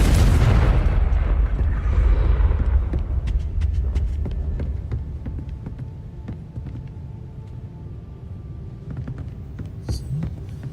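Confringo fire spell cast in the Hogwarts Legacy video game: a loud fiery blast at the start that fades into a long, low, rumbling decay with scattered crackles and small pops.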